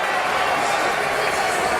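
Brooklyn boxing fans cheer for fighter Zab Judah, a steady wash of crowd roar filling an arena, loud and sustained throughout.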